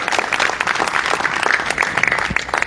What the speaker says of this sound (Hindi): एक ताली इंडिया की धार के लिए